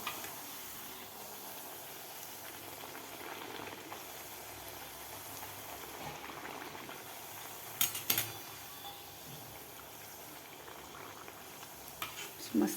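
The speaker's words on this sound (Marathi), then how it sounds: "आपल्याला गोल्डन कलर होईपर्यंत आपल्याला हे तळून घ्यायचे आहे" Kadakani, a crisp snack of semolina mixed into flour, deep-fries in hot oil with a steady soft bubbling hiss throughout, a couple of brief clinks standing out near the end; close and fairly quiet, no talk.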